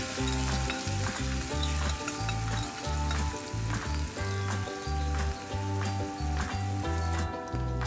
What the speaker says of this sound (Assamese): ৰঙচুৱা হোৱালৈকে ভাজি ল'ম